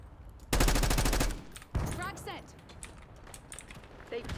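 Gunfire in the video game Call of Duty: Black Ops 6, a loud rapid burst of automatic shots followed by more scattered firing and game effects, with a player talking over it.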